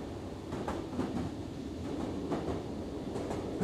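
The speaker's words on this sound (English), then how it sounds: "Something like a calming train ride, huh?" A train ride in the video game The Outlast Trials, with a steady low rumble and rhythmic clickety-clack of wheels over the rail joints repeating at moderate volume throughout.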